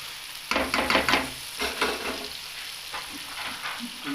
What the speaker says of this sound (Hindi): तो मसाले को अच्छी तरह भून के दोबारा मिलते हैं